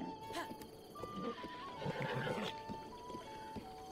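Horse sounds from the game Breath of the Wild, a soft whinny and snorting with hoof clops amid game music, with people talking over it throughout.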